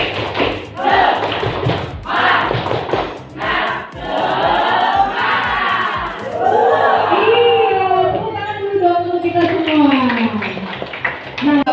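Schoolchildren in a classroom doing the tepuk semangat chant, rhythmic group claps and thumps in patterned bursts mixed with loud chanted voices.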